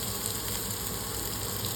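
Onions frying in a pan on steady heat give a faint, continuous sizzle, even and unbroken throughout with no talking.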